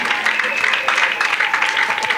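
A church congregation applauds in praise during a testimony service, a broad wash of clapping and cheering that holds steady at fairly close range for a couple of seconds.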